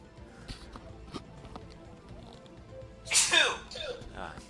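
A single loud, sharp sneeze erupts near the end of a stretch of quiet background noise and faint clicks, close to the microphone.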